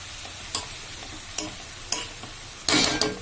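Tomatoes fry in a hot pan, heard as a few sharp scraping stirs at close range over a faint background sizzle, ending in a longer burst of frying noise.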